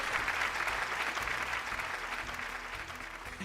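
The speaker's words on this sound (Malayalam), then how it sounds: "നല്ല ഒരു കൈയടി കൊടുത്തേ" Studio audience on a Malayalam TV game show breaks into steady, sustained applause that fills the room at an even level for the whole stretch, gradually easing off slightly toward the end.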